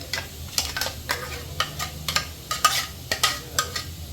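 Onion and tomato paste fries in a kadai while a spoon repeatedly scrapes and stirs, giving sharp, close metallic strokes over a steady low sizzle, with no voices.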